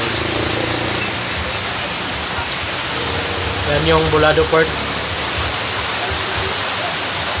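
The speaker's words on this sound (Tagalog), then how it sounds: "patuloy pa rin umuulan dito mga kapirikabo." Steady heavy rain pours at Bulado port, a dense continuous hiss filling the scene throughout while someone speaks briefly in the middle.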